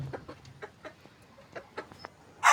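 Adult laying hens cluck in short, separate bursts at close range, a soft series of calls ending in a louder, sharper squawk.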